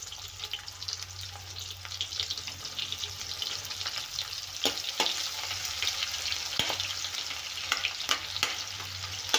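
Half a spoon of cumin and two sliced medium onions frying in hot oil in a pan, a steady close sizzle with occasional stirring scrapes and clicks running throughout.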